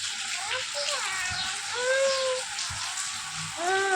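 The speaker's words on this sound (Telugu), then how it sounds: "వాన బాగుంది కదా" Rain patters steadily in a soft, continuous hiss while voices talk and sing over it nearby.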